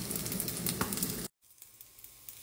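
Egg sizzles and spatters loudly in a hot pan while fried rice is being made, then the sound cuts off abruptly and a much quieter, softer sizzle follows.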